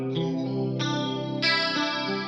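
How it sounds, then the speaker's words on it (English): Clean electric guitar played through a Strymon Mobius chorus set in front of the amp: a few sustained, shimmering chords ring out close and clear, with no talking. "This is the Mobius in front with the chorus sound."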